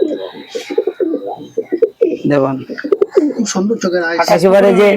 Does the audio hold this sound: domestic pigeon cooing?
yes